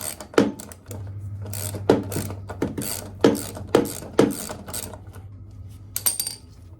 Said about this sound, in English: I had to use a stubby wrench